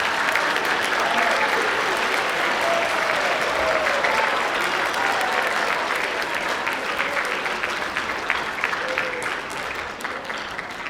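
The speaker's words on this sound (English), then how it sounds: "Students, can we please all clap for the families here at the North Hills School District?" Sustained applause from a crowd of students clapping for families at a middle school spring band concert, steady and dense throughout with no break.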